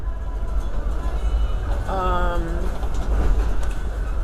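Continuous low rumble of a moving train interior, with a brief tonal squeal or whistle rising midway.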